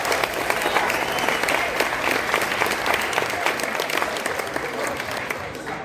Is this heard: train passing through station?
no